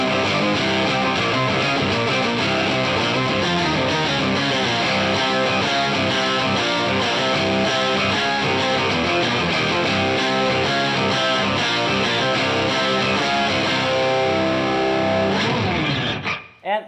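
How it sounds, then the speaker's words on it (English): A dense, heavily distorted bass guitar tone with octave-up and octave-down effects plays continuously with thick layered octaves, buzzing and gritty throughout before cutting off abruptly at the end. "What I like to do is using distortion with both octave up and octave down."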